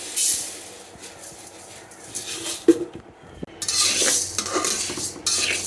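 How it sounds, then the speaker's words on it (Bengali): Moong dal being dry-fried in a pan, with scraping and clinking of a spatula against metal and a faint hiss, loud stirring bursts broken by a brief quiet gap. "আবার তো ডালগুলো আগে ভেজে নিতে হবে।"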